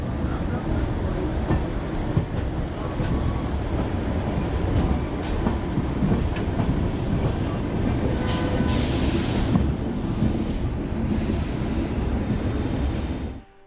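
A passenger train pulls out of Arsikere Junction with a continuous loud rumble of wheels and carriages, and a few high squeals and hisses come through near the end.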